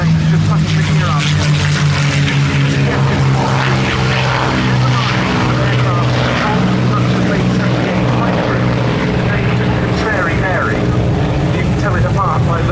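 North American P-51D Mustang fighters fly at the Battle of Britain air show at Duxford, their piston engines giving a loud, sustained droning roar throughout while a commentator talks over the top.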